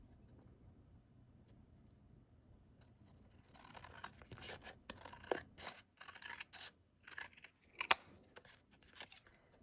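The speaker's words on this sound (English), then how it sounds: "now we're gonna cut off any excess we have" Scissors cut away excess craft material in a quick run of close, crisp snips and rustles after a few seconds of near silence.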